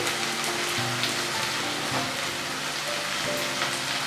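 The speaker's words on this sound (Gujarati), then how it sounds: "કડાઈને બંને સાઈડથી પકડી અને ભીંડીને ઉપર નીચે કરીને મિક્સ કરીશું, જેથી ભીંડીની દરેક સ્લાઇસ પર તેલનું કોટિંગ થઈ જાય" Okra slices are tossed in oil in a kadai, a dense sizzle that keeps on steadily like rain, with faint shuffling as the pan is shaken.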